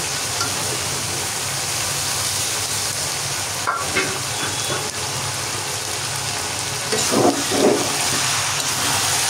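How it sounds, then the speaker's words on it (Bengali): Beef tripe fries in a pan while being stirred and turned, a steady sizzling hiss with scraping stirs breaking through now and then, louder near the end. "এখন নেড়ে চেড়ে ভাজতে থাকবো।"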